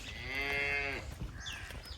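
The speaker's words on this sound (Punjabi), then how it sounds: "ਇਹ ਗਾਂ ਆ ਗਈ ਹੈ, ਬੜਾ ਹੀ ਪਾਵਰੀ ਤੇ ਮੱਝਾਂ ਵਾਲਾ ਥਣ ਲੱਗਾ ਇਹਨੂੰ" A cow at a dairy farm gives one drawn-out moo of about a second, fairly faint, followed by quiet farmyard background.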